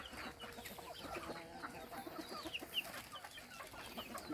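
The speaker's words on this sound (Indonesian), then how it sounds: "Cantik ya jago ya." A Sentul rooster clucks softly amid busy farmyard background noise, with scattered bird chirps and rustling; the fowl sounds are moderate and fairly close.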